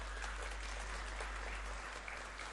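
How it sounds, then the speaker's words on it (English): An audience applauds at a convocation ceremony, producing a steady, even wash of distant clapping with no distinct individual claps, faint and continuous throughout. "given you the applause that you are hearing today"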